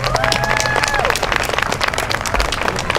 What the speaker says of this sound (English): Let's really have a round of applause for Angelica Loa Perez.